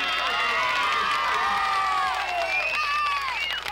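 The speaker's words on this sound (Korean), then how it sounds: "열광적인 지지 군중들의 환호" A crowd of supporters cheers at an opposition campaign rally in Santos, Brazil, with loud, continuous shouting and whistling voices from many people rising and falling together.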